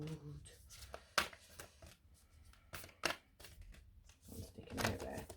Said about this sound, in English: We're not doing very big shuffles today because my fingers are cold.